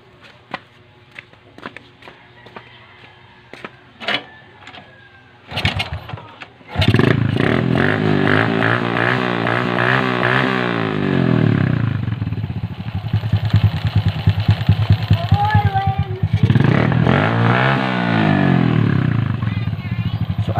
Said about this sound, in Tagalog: andar ang makina